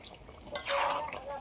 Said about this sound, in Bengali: অল্প করে জল দেবো, বেশি জল দেবো না